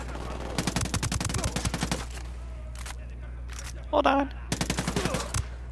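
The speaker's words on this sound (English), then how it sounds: "Somebody shot through the floor." Gunfire in the tactical shooter game Ghost Recon Breakpoint, with rapid bursts of shots in a couple of clusters, a brief sharp burst between them, and a voice talking briefly over the action.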